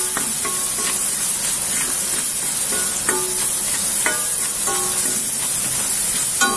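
Ginger, garlic and onion sauté in hot oil with salt and turmeric for a spicy Kerala-style mackerel (aila) fish curry: a steady close sizzle runs throughout, broken by scattered clinks of stirring, with no talk.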